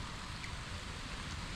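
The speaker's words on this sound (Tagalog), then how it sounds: "So ayan, umuulan na at tago-tago muna tayo." Rain falls at a tilapia fish farm as a steady, dense hiss of drops on surfaces, even and continuous with no voices.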